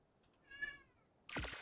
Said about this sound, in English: Yeah, cat.